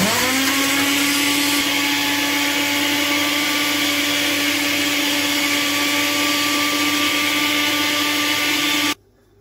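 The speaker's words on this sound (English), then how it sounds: "This is my blender. I put it already in the blender." A blender blending ginger and garlic whirs loudly and steadily with a high motor whine for several seconds, then cuts off abruptly near the end.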